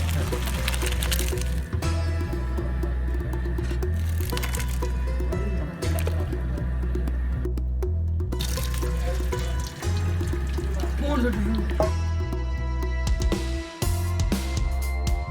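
Water draining from boiled rice through a strainer while cooking zarda sweet rice, a continuous splashing, running-water rush with occasional clinks of the metal strainer, steady and close.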